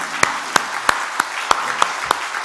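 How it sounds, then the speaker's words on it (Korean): Clapping from a church congregation comes as about seven crisp, evenly spaced claps in a steady rhythm, close and clear over a quiet room, with no talk. "이분들을 위해서 우리 박수 한번 쳐줄까요?"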